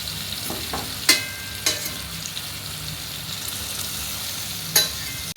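A tomato dish with chilli sizzling steadily in a pan on a low flame, a constant close frying hiss broken by a few sharp spatula scrapes and clinks.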